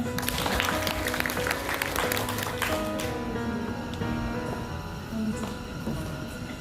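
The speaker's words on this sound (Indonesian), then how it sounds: "Tepuk tangan semuanya." Audience applause at an Indonesian seminar on the digital village economy, a dense, steady wash of clapping that fades somewhat after the first few seconds and carries on more thinly to the end.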